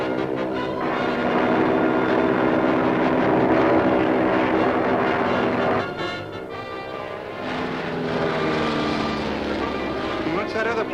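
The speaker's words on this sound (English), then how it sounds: "What's that other plane doing there?" A fixed-wing airplane engine drones steadily in flight, a loud continuous propeller roar that shifts in tone partway through, with voices speaking over it.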